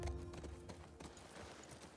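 Horse hooves thud softly in The Last of Us Part 2, a few faint, uneven footfalls under a low game ambience as riders dismount.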